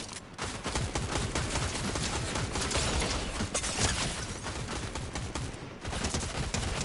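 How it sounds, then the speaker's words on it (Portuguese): Dense gunfire in Fortnite, rapid overlapping shots and bursts filling the mix loudly and almost continuously, with a brief dip near the end. "Caraca, errei todos os tiros"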